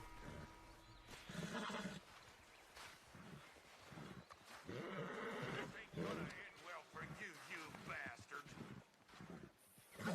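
A horse in Red Dead Redemption 2 gives repeated whinnies and snorts amid game sounds and hoof movement, while someone talks over it for much of the time.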